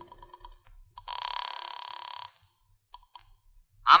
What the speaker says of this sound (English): I reached for the phone